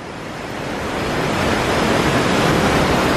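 McGalliard Falls rushes with a steady, dense roar of falling water, loud and continuous throughout, with no voices over it.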